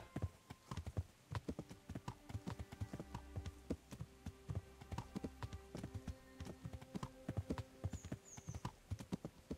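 Rhythmic clip-clop of horse hooves in the video game Kingdom Come: Deliverance on PC, at a steady walking pace, fairly quiet, with a faint whinny near the end.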